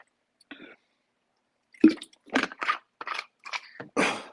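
Close-up sequence of gulps and wet swallowing sounds as someone drinks water, several short bursts in an irregular rhythm, clear and near in a quiet room.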